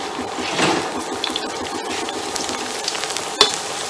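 Chinese-style bread dough deep-frying in a full pot of oil, a steady close sizzle with bubbling crackle throughout and one sharp clatter near the end.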